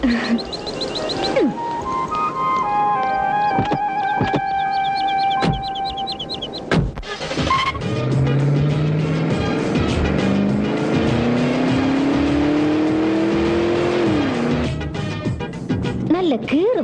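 A car in a dramatic film scene starts up and pulls away, its engine note climbing steadily in pitch as it accelerates, loud and close, then cutting off sharply, with music-like tones and other effects layered over it.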